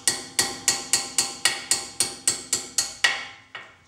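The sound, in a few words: small hammer tapping brake pad pins on Mercedes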